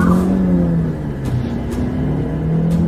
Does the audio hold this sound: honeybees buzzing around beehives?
no